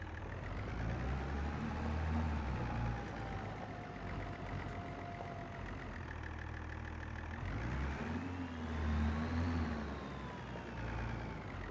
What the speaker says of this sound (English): Got to start the engine.